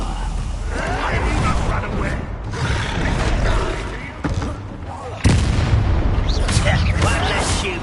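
The Bombarda blasting spell cast in Hogwarts Legacy: dense, rumbling explosive bursts and booms, with a sharp, louder blast near the end, mixed with mechanical clatter and game voices.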